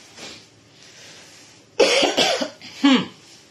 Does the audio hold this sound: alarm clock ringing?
no